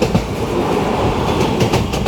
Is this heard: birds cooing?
no